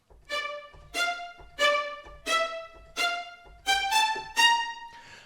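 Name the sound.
violin spiccato sample played on keyboard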